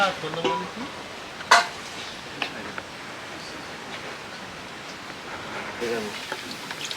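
Luchi fry in oil with a steady hiss and sizzle, joined by occasional sharp clatters and utensil knocks, while people talk nearby.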